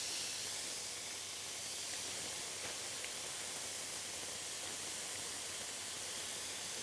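Steak sears in a pan, giving a loud, dense, continuous hiss that holds evenly for several seconds with nothing else standing out.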